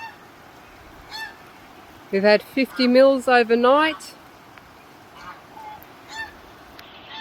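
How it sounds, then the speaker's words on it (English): Geese shut in a stable during heavy cyclone rain honk in a loud cluster of harsh repeated calls in the middle, with fainter honks before and after; someone speaks briefly. "The geese and chickens are locked up."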